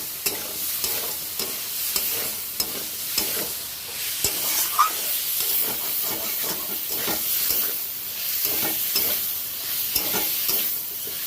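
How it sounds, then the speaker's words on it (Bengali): Cauliflower and potato stir-fry in a spice paste, giving a loud, continuous sizzle and hiss. Rhythmic scraping and stirring strokes repeat through it, close to the listener. "ভালো করে আমাকে এবার কষিয়ে নিতে হবে"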